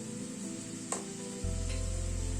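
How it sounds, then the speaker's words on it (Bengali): Masala spice paste cooks in a pan over a medium gas flame with hot water added, giving a steady close hiss and sizzle with a brief stirring scrape, and a low hum joins midway. "এবার গ্যাসের ফ্লেমটাকে মিডিয়ামে রেখে মশলাটাকে ধীরে ধীরে কষিয়ে নেবো"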